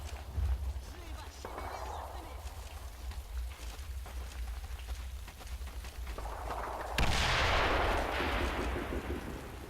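Heavy machine gun fire in the World War II tactics game Combat Mission Red Thunder, a steady rumbling stream of distant shots and impacts with a louder burst late on, heard without speech.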